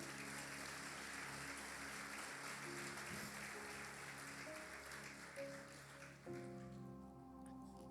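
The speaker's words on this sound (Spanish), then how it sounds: "Denle un aplauso al Señor" A congregation applauds during a Sunday church service, a faint, steady patter of many hands mixed with sustained organ or keyboard tones that shift near the end.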